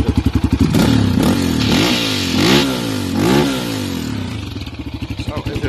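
A Yamaha Raptor 700 quad with a fuel-injected 700cc engine idles close by, then revs hard three or four times in rising and falling bursts before settling back to a steady throbbing idle.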